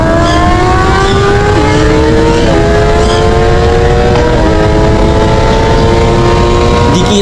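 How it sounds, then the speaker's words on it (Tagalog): A Kawasaki ZX-10R and a Hayabusa big bike race flat out, engines screaming loud and close with a rising whine that drops at each gear shift, several quick upshifts in a row. "Bali ito ay karera ng mga big bike. Ito ay Kawasaki ZX-10R at Hayabusa."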